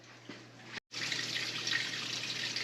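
Water drains from an electric hot water tank through a hose into a sump pump pit, a steady rushing flow that cuts out briefly and then resumes, slightly louder, with a faint hum underneath.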